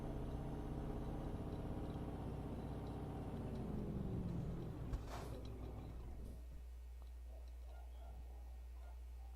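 Truck engine in a driving video game rumbles steadily with harmonic drone that drops in pitch as it bogs down, then settles into a low idle hum after a brief clatter.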